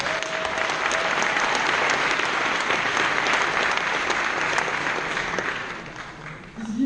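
Steady, dense applause from a hall audience at an ISIMA graduation ceremony, sustained at full strength for several seconds before thinning out at the very end.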